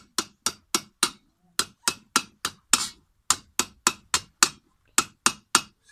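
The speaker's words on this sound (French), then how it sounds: "le marteau, lui, tape toujours au même endroit" A metalworking hammer repeatedly strikes the same spot on a metal piece, sharp ringing blows in a fast, even rhythm of about three per second, close and clear, with a couple of brief pauses.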